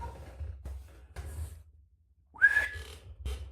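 A person whistles straight into a microphone, short soft bursts and then one sharper, rising whistle, close and clear against near silence with a few faint knocks.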